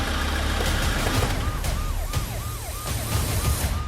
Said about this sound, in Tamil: Siren of பண்ணிடியா?